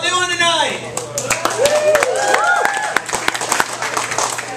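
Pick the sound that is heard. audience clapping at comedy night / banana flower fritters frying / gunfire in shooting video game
audience clapping at comedy night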